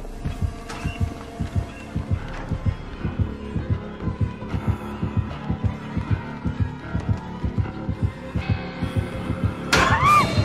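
A heartbeat pulses in a video game, low thudding beats repeating in a steady, fast rhythm with a faint hum beneath, close and prominent, with a brief rising tone near the end.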